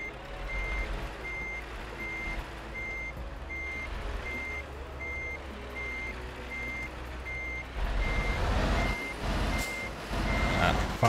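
Regular backup beeps from a reversing truck in Euro Truck Simulator 2 repeat steadily over a low idling engine drone, with louder rumbling and a brief hiss of air toward the end.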